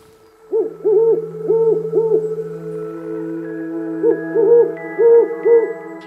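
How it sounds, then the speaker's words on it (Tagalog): Two owls hoot in soft, tremulous, wavering calls, one pair of phrases followed by another after a pause, clear and fairly close against a faint steady hum. "Kapag iniisip mo ang boses ng kuwago, iniisip mo ang isang banayad, nanginginig na huho."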